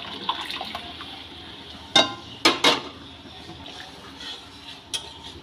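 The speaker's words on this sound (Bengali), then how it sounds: "সিদ্ধ করা ডালটা এবার ঢেলে দেবো।" Boiled moong dal pours into a pan of spiced, fried rohu fish heads, with a few wet splashes and pan clatters in quick succession and a softer splash afterwards, close by with no talking.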